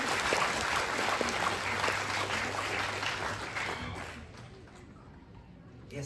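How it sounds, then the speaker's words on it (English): Classmates clap at a graduation ceremony, a diffuse round of applause from a hall that gradually fades out toward the end. "fellow classmates can also clap as well, right?"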